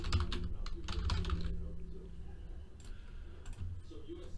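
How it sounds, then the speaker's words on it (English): Computer keyboard typing during a trading card box break, with quick clustered key clicks in the first second and a half that fade to sparse taps, under a low steady room hum and some background talk. "So I'm just typing these Austin Hooper Falcons, DeForest Buckner 49ers."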